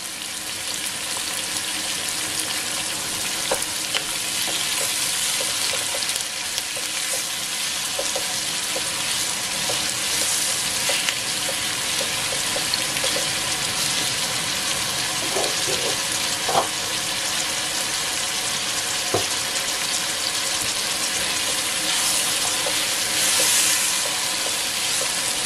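Chopped onions sprinkled with salt sizzle steadily in a hot pan. A few soft scrapes and clinks of stirring rise over the continuous frying, with no voices.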